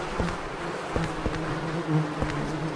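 Insects drone and buzz steadily in a horror video game, with a dense, constant hum and a few faint soft knocks, close and even, with no voices.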